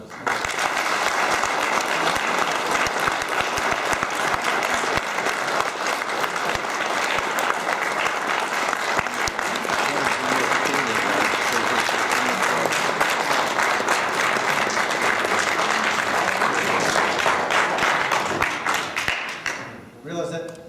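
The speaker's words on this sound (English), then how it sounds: "Realize that round of applause" Sustained applause from a large audience, dense steady clapping for about twenty seconds before tapering off at the end.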